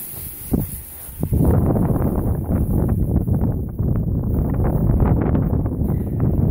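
Strong wind roars steadily across an outdoor off-grid house build site, buffeting the microphone with loud, continuous low rumble and gusts throughout.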